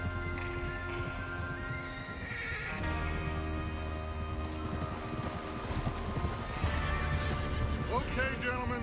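Horses in the video game Red Dead Redemption 2 whinny and neigh repeatedly over steady clip-clopping hooves, with wind and background voices in a busy outdoor scene.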